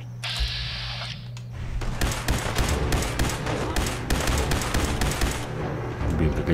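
Gunfire in the video game Fallout 4 Far Harbor crackles in rapid bursts, a dense string of sharp shots running for several seconds with a steady background hum beneath.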